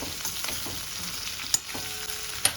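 Gunda, mango and chili relish sizzling in an open pan, a steady close frying hiss with soft stirring scrapes and a few sharper clicks, no voices.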